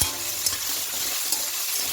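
Vegetables for veg fried rice sizzle and fry steadily in a hot pan, a continuous loud hiss with a couple of faint clinks of stirring.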